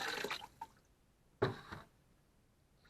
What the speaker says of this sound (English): I'm going to add back some of the water.